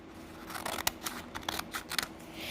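Scissors snip through folded paper strips being cut for straw rockets, a quick run of sharp, close cuts with small pauses between them and no talking.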